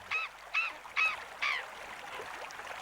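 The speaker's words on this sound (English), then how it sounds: "These birds fought long and hard over the remains of a dead penguin." Skuas squabble over a dead penguin in the Antarctic, four harsh honking calls in quick succession followed by fainter bickering, close and loud with no talk.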